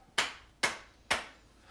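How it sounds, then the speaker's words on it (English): Three sharp hand claps ring out in an even, unhurried rhythm, each one crisp and close. "Everybody clap."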